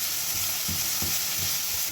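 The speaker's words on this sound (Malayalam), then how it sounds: "ഇനിയിപ്പോൾ ഉള്ളി വാട്ടിയെടുക്കാം. ഇതിപ്പോൾ 2 ഉള്ളിയാണ് എടുത്തത്. ഇത് നന്നായി ഉപ്പിട്ട് വാട്ടിയെടുക്കാം." Two onions with salt sauté in a hot pan, a dense continuous sizzle with a few soft stirring scrapes, close and steady with no voices.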